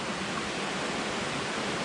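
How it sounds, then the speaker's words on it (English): Steady, broadband rushing of water gushing down from a waterfall in a rocky gorge, heard from a distance as a constant even roar with no talk. "you might be able to just make out the water that's gushing down there"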